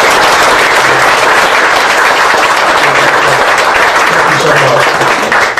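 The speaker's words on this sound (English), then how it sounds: "Y'all just give them a round of applause." Dinner audience at a military tribute event applauding the kitchen staff and servers, loud dense clapping filling the room close up, with a voice speaking briefly over it.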